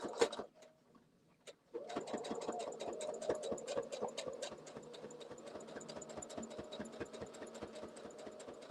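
A sewing machine starts after a brief quiet moment, then runs in a fast, even mechanical rattle of stitches, close and moderately loud.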